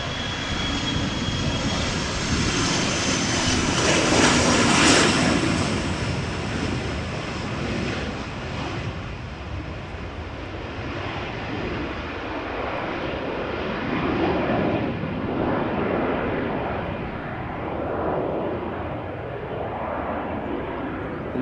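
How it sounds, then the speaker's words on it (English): An Embraer ERJ-145 regional jet, registered in the Netherlands, departs in crosswind conditions at Amsterdam Schiphol Airport, its loud, steady engine roar swelling and fading as it climbs away, with no one talking. "Embraer 145, ladies and gentlemen."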